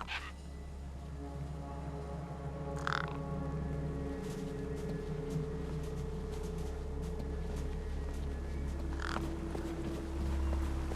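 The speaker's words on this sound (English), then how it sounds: "No way I was going to get between those birds and their feast." Croaking, crow-like birds feasting on a corpse propped against a rock in the game Beyond a Steel Sky; a few harsh calls ring out at intervals above a constant low droning backdrop.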